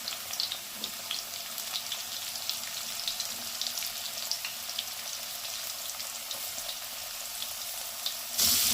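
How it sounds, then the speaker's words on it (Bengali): Diced potatoes frying in oil with turmeric and salt, a bright, even hiss running steadily with faint crackles, closing on a brief louder burst of hiss. "আলুটাকে একটু হলুদ আর নুন দিয়ে ভেজে নেব"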